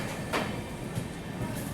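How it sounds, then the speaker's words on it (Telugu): An Amrit Bharat Express passenger train from Charlapalli to Shalimar rumbles along on its first run, a low rolling rumble with a few soft clanks, heard from inside among faint background voices. "ఒక్కసారిగా సడన్గా స్పీడ్గా వచ్చింది ట్రైన్, ఒక్కసారిగా ఆగిపోయింది."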